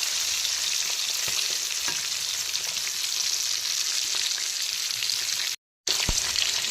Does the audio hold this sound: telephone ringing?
no